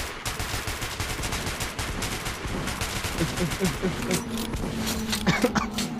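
Gunfire in Metro 2033 Redux comes as dense rapid automatic bursts, loud and continuous under an excited player's overlapping talk, with chaotic game noise filling the background.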